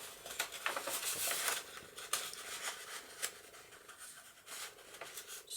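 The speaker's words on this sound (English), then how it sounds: "I just have to fold all of these in half." Sheets of tea-dyed paper are folded in half for a tab-bound junk journal, producing soft, close, irregular crinkles and sharp creasing swipes in quiet surroundings.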